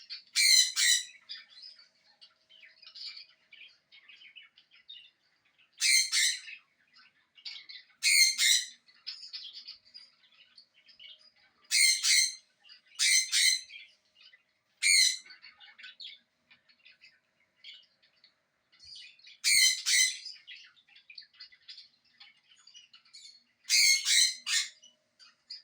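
A parrot squawks in loud harsh bursts at irregular intervals, one or two calls at a time, over faint chirps and bird calls played from a recording meant to keep lonely parrots company.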